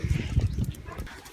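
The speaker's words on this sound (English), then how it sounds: "dogs. Life on the farm." Dogs on a farm make low, busy sounds in the first second: scuffling movement, panting and soft muffled barks. The activity is close by and fades toward the end.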